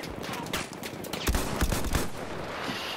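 Machine gun fire in the WWI shooter game Verdun, on Verdun heights with a Howell automatic: scattered loud bursts and single cracks over a steady noisy battlefield wash, with no one talking.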